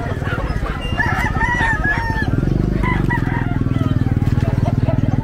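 Cuban Tiger gamefowl roosters crow repeatedly at the Bocaue pet market, loud, overlapping calls rising above a dense, steady crowd rumble.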